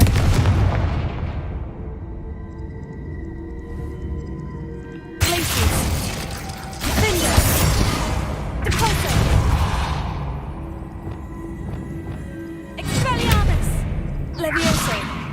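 Confringo fire blast spell in the Hogwarts Legacy video game, several loud booming explosive bursts with shattering crashes and whooshes, separated by quieter ringing decays.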